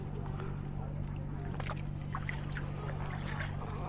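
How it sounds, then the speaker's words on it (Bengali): Rumbling engine drone of a trawler on the Padma river near Faridpur, a constant low hum with water and wind noise, voices faintly audible in the background. "এই মধ্যে এখন ট্রলারের ভিতরে উঠলাম আমরা।"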